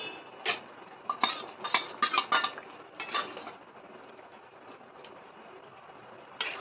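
A metal spatula stirs and scrapes meat and potatoes in a pan, giving a cluster of sharp clinks and scrapes early on, then quieter sizzling with one more clink near the end, close and fairly soft, with no talking.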